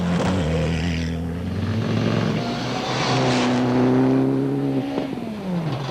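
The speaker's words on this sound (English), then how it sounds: "In the Evo 8 war, Van Niekerk raced through the stage but only gained a second on Rueda." A Mitsubishi Lancer Evo 8 rally car races through a stage of the 2005 Volkswagen Rally, its engine roaring loudly and shifting pitch as it revs up through the gears and passes close by.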